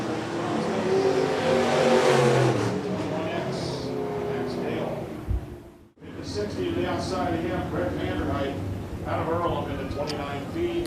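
IMCA Northern Sportmod race cars run a heat on the dirt oval at Shelby County Speedway, engines droning and revving steadily under continuous announcer talk, with a brief dropout midway.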